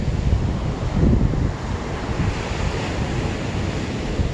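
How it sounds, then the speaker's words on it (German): Steady wind blowing across the microphone at a beach in Alanya, with waves washing in behind it, a continuous loud rush that swells briefly and then settles. "Sehr schön und ein angenehmer Wind ist auch gerade."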